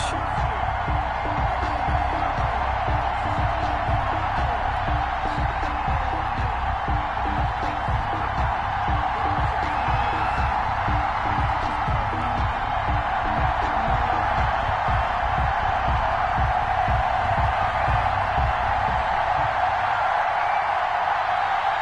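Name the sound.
stadium crowd cheering at Buccaneers vs Browns football game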